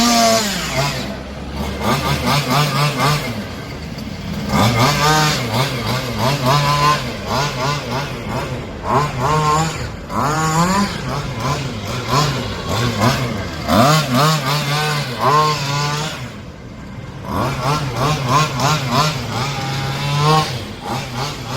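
A motor vehicle on brand-new tires revving hard and repeatedly, its loud engine note rising and falling in waves as the car slides around, with voices heard now and then.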